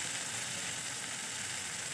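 Chopped tomato sautéing in a pan with ginger-garlic paste, a soft even hiss and sizzle that holds steady throughout, close and quiet, with no stirring strokes or voices.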